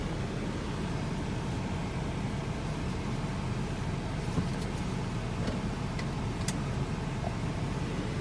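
A 2003 Acura TL 3.2 with high mileage cruises on a test drive, giving a steady interior hum of engine, tires and road noise with no talking.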